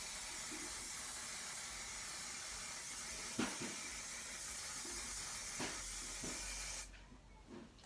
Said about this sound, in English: And then we go and we spray.